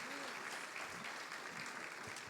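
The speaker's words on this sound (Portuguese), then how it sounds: "Pode aplaudir essas crianças lindas." A church congregation applauds children in a brief, dense burst of clapping that holds steady throughout, with a voice faintly audible over it.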